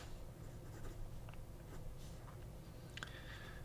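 A teal Hongdian N7 fountain pen with a soft, hard-starting nib scratches across paper, close and steady, with small ticks as strokes begin and lift.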